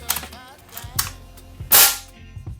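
An FX Wildcat Compact .22 caliber air rifle fires one sharp, loud, close crack, with a few softer handling clicks and knocks before and after.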